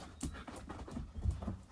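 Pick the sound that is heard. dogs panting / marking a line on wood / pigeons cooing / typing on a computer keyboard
dogs panting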